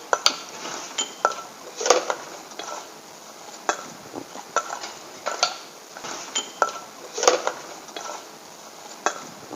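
Shrimp being mixed with seasonings in a bowl, a spoon scraping and clinking against the bowl in a loose, uneven rhythm of soft taps and sharper knocks, close and moderately loud.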